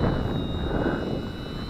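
A steady, high-pitched electric motor whine drones overhead from an XK DHC-2 A600 RC model airplane in flight, a constant buzzing tone, moderately close and unbroken.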